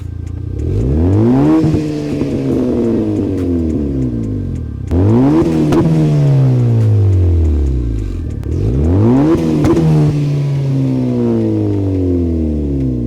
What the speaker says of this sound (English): right now, just revving it, that's what it sounds like